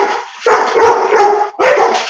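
Dogs bark loudly and close by indoors, a burst of rough overlapping barks and yips that runs almost continuously, breaks briefly, then resumes.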